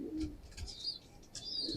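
Brief low coos from a fancier's pigeon at the start and end, separated by thin, high chirping and rustling, all moderately faint and nearby with no voices.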